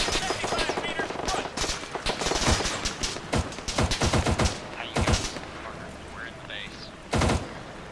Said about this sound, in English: We're taking shots from Russian forces.